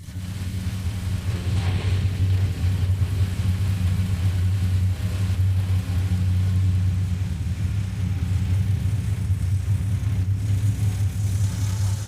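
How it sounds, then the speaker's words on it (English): Old CB42 engine running steadily at idle, a loud, close, continuous rumble with an even throb and no pauses throughout. "Lucio is going to start up the CB42."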